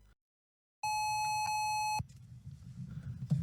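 An audio-video synchronizing gadget sounds a single loud, steady electronic sync tone lasting just over a second after a brief silence, then cuts off sharply, leaving low room noise and faint handling sounds.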